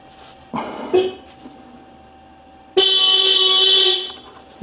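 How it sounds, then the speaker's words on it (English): A Citroën C1 car horn sounds nearby, first a short, rough blip with a dog barking, then one loud, steady blast held for over a second before cutting off. "The horn is working"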